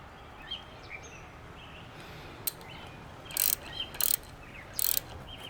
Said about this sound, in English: Cut more thread.